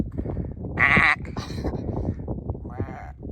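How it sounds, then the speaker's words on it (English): Sheep bleating on a foggy mountain hike in the Mournes, with a couple of loud nearby bleats rising over steady wind and someone talking throughout. "There's some sheep up there."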